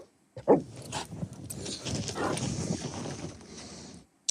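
A pet puppy named Donnie playing, with a sharp yelp or bark near the start followed by several seconds of steady scuffling and rustling movement, close by, with no talking.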